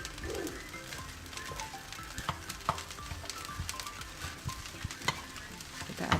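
Spring onions being stirred into nasi goreng kampung frying in a pan or wok, with a steady close sizzle and scraping, clanking stirring strokes throughout.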